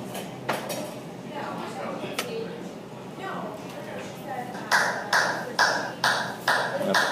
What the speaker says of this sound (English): That's a pretty weak clap.